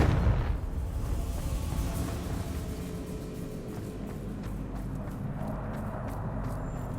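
The Confringo fire-blast spell in Hogwarts Legacy detonates with a heavy booming blast at the start, and a dense rumbling roar then fades slowly over several seconds without any talk.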